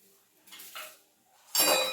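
Steel pots and dishes are dropped into a kitchen sink, giving soft knocks and then a bright metallic clatter and clink near the end, close and brief.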